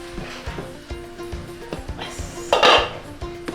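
Cookware clatter in a home kitchen while khichdi cooks, with light metallic clinks of utensils and a louder clanking burst near the end, consistent with a lid being set on the pot.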